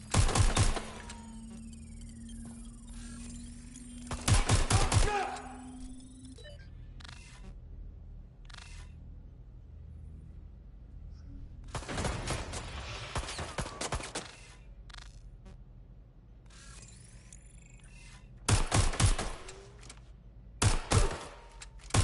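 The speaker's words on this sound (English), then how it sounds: "Target is firing!" Video game gunfire in Watch Dogs Legion comes in short, sharp bursts scattered through a quiet stretch, with several loud volleys spaced apart and a longer rattling run in the middle.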